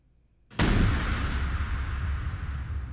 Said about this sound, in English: just a huge, huge hit, like a trailer hit